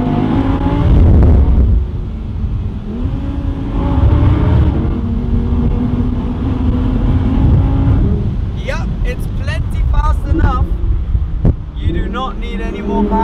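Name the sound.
Audi R8 Spyder accelerating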